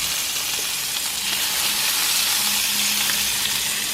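Water spinach (kangkung) sizzles steadily in a hot pan during a stir-fry, a continuous close frying hiss with no voices over it.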